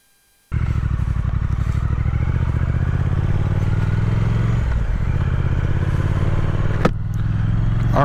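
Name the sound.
older Triumph Speed Twin motorcycle riding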